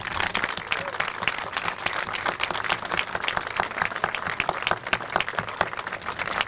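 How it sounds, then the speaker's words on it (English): A school ceremony audience applauds steadily, dense clapping from many hands in a room, even and sustained, with no talk. "we would like to ask all the members of Safety Patrol to stand and join us in an applause"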